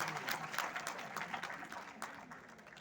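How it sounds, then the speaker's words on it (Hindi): Studio audience clapping for a guest at a live quiz show, a moderate, steady patter of hands that tapers slightly toward the end, with some voices mixed in underneath. "तालियां बजती रहनी चाहिए, तालियां"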